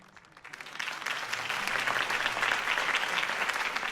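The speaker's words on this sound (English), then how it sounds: "could have heard that applause" Crowd applause rising from a quiet start into sustained, dense clapping in a Batman Telltale video game scene, heard on its own without talk.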